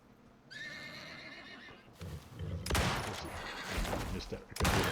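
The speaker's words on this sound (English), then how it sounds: "I missed that horse at that close range." A horse in a video game whinnies loudly, followed by heavy bursts of gunfire and rattling shots close up.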